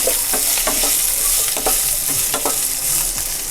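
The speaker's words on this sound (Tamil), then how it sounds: "இதை ஒரு 3-4 மினிட்ஸ்க்கு நல்லா வதக்கிக்கலாம்" Boiled raw banana and dried chillies are stir-fried in a hot pan, with a loud, continuous sizzle. A spoon scrapes through it in repeated strokes, and no one speaks.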